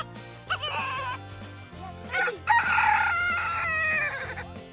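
A rooster crows loudly and close by, with hens clucking around it and a low steady hum running underneath throughout.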